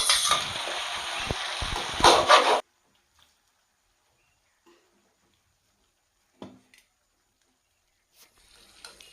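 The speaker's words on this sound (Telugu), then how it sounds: "టమాటోస్ వేసుకొని మెత్త మెత్త మెత్తపడే వరకు ఫ్రై మగ్గించుకోవాలి" Tomatoes fry in a pan for cauliflower masala curry, a loud dense sizzle with a few stirring clatters for about two and a half seconds, then near silence with faint scattered clinks.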